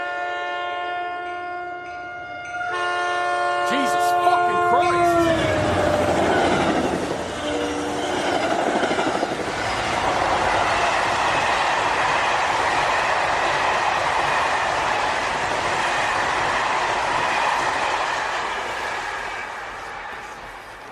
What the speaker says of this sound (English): but then at 3, another train passed.